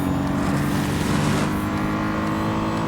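An F1 safety car with a Mercedes engine in the Real Racing 3 racing game at Silverstone gives off a steady, loud droning engine note that holds at a constant pitch for the whole stretch, with no talk over it.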